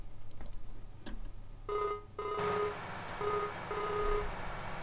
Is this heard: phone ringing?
yes